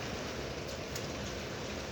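Heavy icy rain falls during a thunderstorm as a fairly faint, steady, dense hiss of drops pattering on surfaces.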